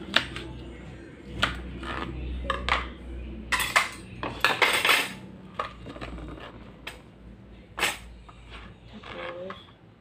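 A knife cutting a salted red egg in half for a red egg salad, with sharp clacks and clinks of the blade, utensils and dishes coming in scattered bursts close by, with brief quiet gaps between.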